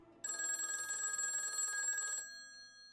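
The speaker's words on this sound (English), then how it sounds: "I heard the phone ring again." A telephone bell rings in one continuous burst lasting about two seconds, then stops, heard fairly faint in a quiet room.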